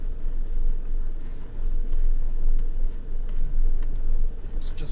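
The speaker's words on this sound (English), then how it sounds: "You can hear the gearbox going." A Ford Raptor truck crawling over rocks in neutral, its gearbox whirring under a steady, loud low-end engine rumble that carries on without a break, with faint clicks and knocks from the drivetrain.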